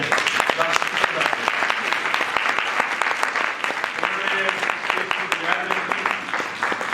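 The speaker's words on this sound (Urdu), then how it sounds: "ان سب کے لیے تالیاں بجائیں" A church congregation claps during a Christmas service, a loud, dense burst of many hands with crisp individual claps that carries on steadily for several seconds while voices murmur underneath.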